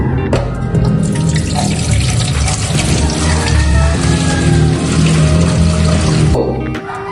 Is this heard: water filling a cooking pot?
yes